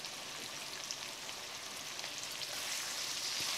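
Curry powder, chili flakes and black pepper frying in a pot for a red grouse stew, a steady close hiss and crackle of sizzling that holds without pause and swells slightly toward the end.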